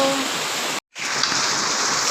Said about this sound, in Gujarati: જો ગાઈસ, વરસાદ ચાલુ થઈ ગયો છે.